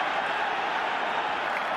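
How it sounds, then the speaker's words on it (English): Home crowd roaring at a Barcelona vs Real Madrid football match in a stadium: a steady, dense wash of crowd noise, loud and unbroken, with a faint commentary voice underneath. "Roared on by the home crowd."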